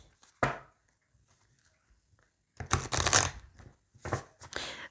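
Tarot cards are drawn and laid down in a few separate bursts of papery shuffling and slapping, each close and crisp, with quiet gaps between them.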